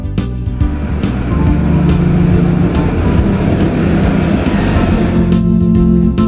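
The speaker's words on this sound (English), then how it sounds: "Cable car." A cable car gives a steady, droning mechanical hum with a low rumble, continuous and fairly loud throughout, with no talking.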